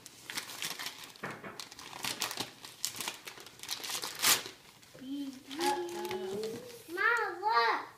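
A gift package unwrapped by a child, with loud paper crinkling and tearing in bursts while young voices chatter and exclaim over it.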